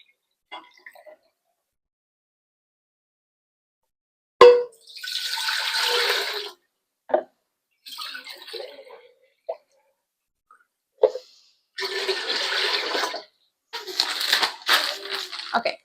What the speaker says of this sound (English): I'm going to add about 8 cups of water to my stock pot